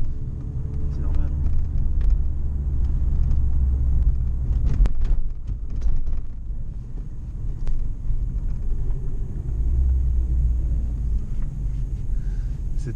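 A Ford Sierra RS Cosworth pulling hard at full throttle, its engine a deep, steady rumble filling the cabin, heard up close with occasional knocks and clicks.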